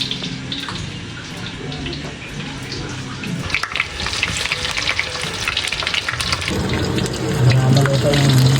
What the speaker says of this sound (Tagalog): Ayan guys, prito na po natin.